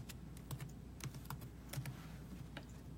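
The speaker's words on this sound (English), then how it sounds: "I'm going to type in New York Beauty" Typing search text on a computer keyboard, heard as quiet, irregular key clicks in short clusters over about three seconds, close but faint against a low steady hum.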